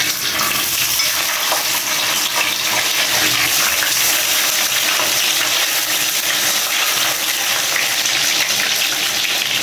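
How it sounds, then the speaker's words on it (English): Sausages fry in a pan with a loud, steady sizzle and crackle that continues unbroken throughout, close and alone. "I'm just putting the sausages in now."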